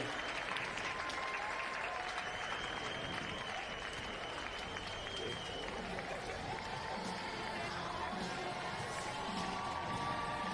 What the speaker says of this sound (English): how about a big round of applause for him?